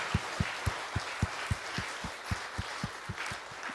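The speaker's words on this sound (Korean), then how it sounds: "우리를 세상의 빛으로 불러주신 우리 하나님께 영광과 감사의 박수 올려드렸으면 좋겠습니다" A church congregation claps in a steady, even rhythm, a run of about fifteen soft, muffled beats heard from some distance with no voices over them.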